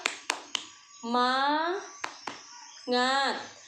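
Primary-school children in a classroom perform the tepuk semangat clapping chant: a few sharp, close hand claps, then a loud group shout of the chant word, repeated twice.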